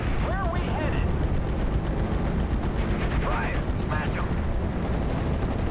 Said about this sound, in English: I've got a bomber. I'm gonna bomb him down.